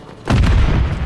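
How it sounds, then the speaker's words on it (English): A grenade detonates in Modern Warfare 3, a single close, loud boom that hits suddenly with a broadband blast and then a heavy low rumble sustained through the rest of the moment, with no voices over it. "Uh-oh, that's a grenade."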